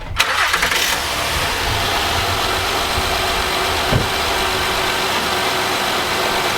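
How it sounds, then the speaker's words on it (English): A car engine cranks and starts after an engine bay wash, a brief starter whir followed by a steady, close idle that carries on evenly. "This is exactly what a car turning on sounds like."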